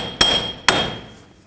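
Two loud, ringing metallic hammer strikes on a front wheel bearing of a 2007–2009 Saturn Aura, spaced about half a second apart, each decaying with a sustained metallic ring.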